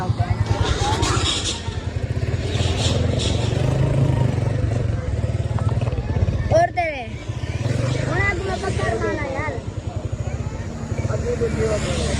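A motorcycle engine drones steadily throughout as the bike rides along, with someone talking loudly over the engine noise.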